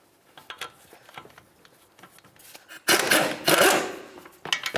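A 17mm ratchet loosening the caliper bracket bolts on the front brakes of a 1998-2003 Toyota Solara, with light clicks and metallic taps, then a loud, rapid burst of ratcheting clatter, followed by a few more clicks.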